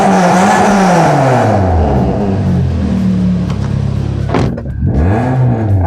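A Toyota Corolla Altis fitted with a K&N intake and long-tube headers runs loud and close, its engine climbing through rising and falling revs in repeated sweeps, with a brief dip near the end before it rises again.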